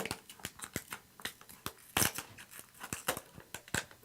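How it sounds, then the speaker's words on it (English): Scissors snip and crackle through a plastic water bottle to cut off its top, a run of sharp, irregular close-up cuts and crinkles with one louder crunch midway. "You take a water bottle. We cut off the top."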